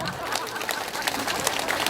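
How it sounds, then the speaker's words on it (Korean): Audience at a street beggar-comedian (각설이) performance during the Masan fish market festival claps and chatters, a dense, steady wash of hand claps mixed with crowd hubbub for about two seconds. "박수 한번 쳐줘"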